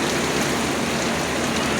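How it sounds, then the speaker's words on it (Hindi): Heavy rain pounding on an intercity bus travelling from Islamabad to Karachi, a dense, even, unbroken roar of downpour with no talking. "बहुत तेज बारिश हो"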